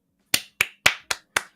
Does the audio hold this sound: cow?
no